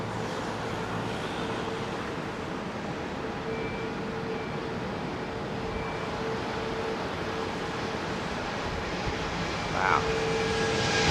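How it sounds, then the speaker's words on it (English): A Boeing Dreamliner jet airliner at London Heathrow gives off a steady, broad engine roar throughout, heard from a distance, with a brief exclaimed word from a voice near the end. "Now this will be long because it's a Dreamliner, probably."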